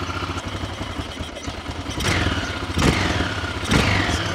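Off-road motorcycle engine in Morocco idles with an uneven, stuttering putter, then three short blips of throttle make louder rasping surges, close by with no talk.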